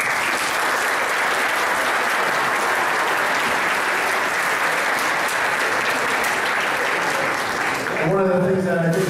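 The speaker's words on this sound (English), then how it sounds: "I'd like the executives to stand up too and give a round of applause." Executives at a company holiday party get a round of applause from the crowd, sustained dense clapping that runs steadily for several seconds and fades as a voice begins speaking at the end.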